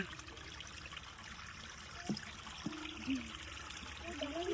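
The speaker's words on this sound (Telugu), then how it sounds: "చూసారా ఈ లోపల నుంచి వాటర్ ఊరుతుంది" Faint trickling water from a small spring seeping out of the ground runs steadily under a low hiss of outdoor background, with a few brief splashes and drips standing out.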